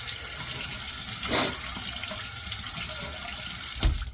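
Water runs steadily from a tap into a sink to warm a shaving razor, a continuous close hiss with a brief splash change partway through and a small knock near the end.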